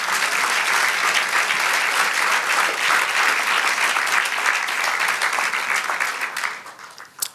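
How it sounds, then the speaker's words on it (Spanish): A church congregation claps in sustained, dense applause that holds steady for several seconds, then thins out and fades near the end. "dale un aplauso a nuestro Dios"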